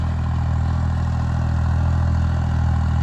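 A modified 3630 tractor engine labours hard in a dry, hard-packed field with its wheels slipping, giving a loud, steady, close-up drone that never lets up.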